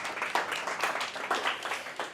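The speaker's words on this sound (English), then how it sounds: "So maybe a quick round of applause" A room full of people at a business event applauds, a steady, moderately loud patter of many hands clapping that goes on for a couple of seconds.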